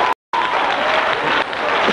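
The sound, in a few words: church congregation clapping hands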